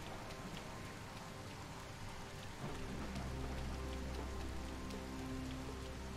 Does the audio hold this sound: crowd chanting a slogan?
no